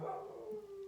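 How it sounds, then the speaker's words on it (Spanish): A dog's faint, drawn-out howling bark at a distance, a single wavering yelp that trails off, with no talk over it. "que no nos distraigan los ladridos de los perritos"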